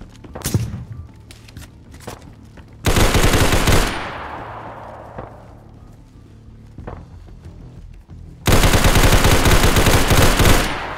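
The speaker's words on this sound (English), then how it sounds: "Yeah, we're getting sniped at" Sniper gunfire rings out in DayZ, with loud bursts of shots at the start and near the end, a long echoing tail between them and scattered single cracks in the pauses.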